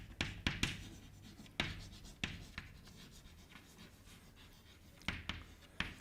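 Chalk or marker strokes on a board during a physics lecture on classical mechanics, a few sharp scratchy taps and short scrapes in bursts, close and fairly quiet against room hiss, with no talking.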